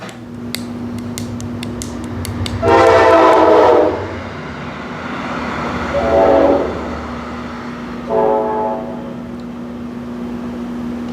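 A train horn sounds three times in the distance, a long blast followed by two shorter ones, over a steady background hum.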